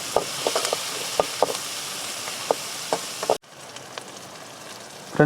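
Garlic, black pepper and cumin sauté in a pan for crab masala, giving a soft, steady sizzle with sharp clicks from stirring at irregular intervals, then a quieter stretch of frying.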